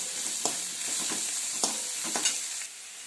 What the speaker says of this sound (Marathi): टोमॅटो घालायचं टोमॅटो चांगलं परतून घ्यायचं चांगलं मऊ होईपर्यंत